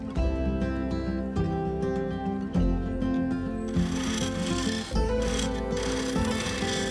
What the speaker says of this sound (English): Using the bowl gouge, I gradually remove the waste material, shear scraping a curve up and round into the midsection